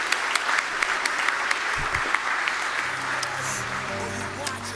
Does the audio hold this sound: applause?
yes